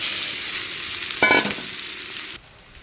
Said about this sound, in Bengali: ভাজা হয়ে গেছে এখন দিয়ে দিই শাক